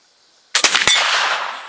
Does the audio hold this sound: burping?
no